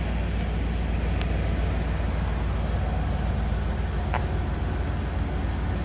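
A 1964 Oldsmobile 98 luxury sedan's V8 runs at a steady idle, heard from behind the car as a constant low rumble with faint outdoor noise.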